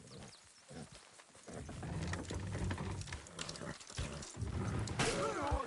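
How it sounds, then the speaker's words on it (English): Horses from Red Dead Redemption 2 clip-clop and rumble amid busy mixed game noise, with harness clatter and movement. The sound builds in loudness and is dense and continuous, with no clear speech. "Good horses."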